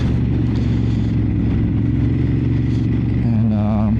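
Ducati Monster 950 Plus motorcycle engine running loud and steady with a mid-range growl, rising in pitch toward the end as it accelerates, with no one speaking.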